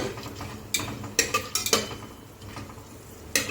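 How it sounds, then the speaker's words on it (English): Whole spices (bay leaf, cardamom, cloves, star anise) in oil in a pressure cooker: a faint sizzle under sharp metallic scrapes and clinks from a quick stir, several spaced clacks over a few seconds. "Just give it a quick stir."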